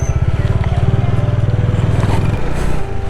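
Motorcycle engine drones steadily and fairly loud through a road trip across northeast India near Guwahati, a continuous low pulsing hum with a slight shift in pitch near the end.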